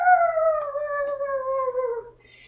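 A child imitates an elephant trumpet during a pre-K story-time activity, making one sustained, slowly falling wail that is loud and clear and stands alone without other talk.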